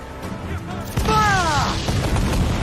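A ship's cannon fires in Assassin's Creed IV: Black Flag, a single heavy boom partway through followed by a whistling, rising tone and rumbling naval battle noise, with voices shouting in the background.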